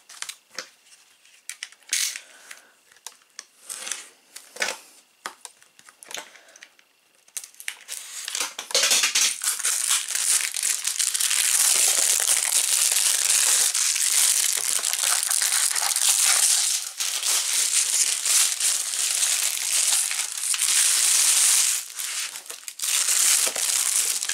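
Model train parts being unpacked, with continuous loud crinkling and crushing of packaging through most of the stretch, preceded by a few sparse rustles and handling clicks.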